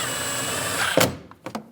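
A power drill drives a screw into the door panel of a 2001–2006 Chevrolet Silverado 2500 HD during a window regulator replacement. A steady high whir runs close and loud, then cuts off, followed by two short clunks.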